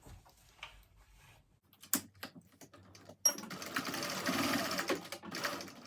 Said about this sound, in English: So now we're going to just sew this together. Just baste it basically